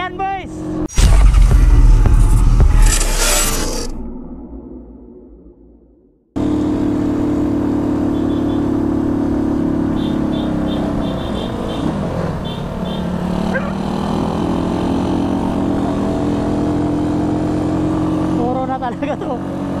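Rusi Flash 150 motorcycle carrying a passenger and climbing a steep uphill, its engine droning loud and steady under strain with wind rush, after a brief burst of revving near the start.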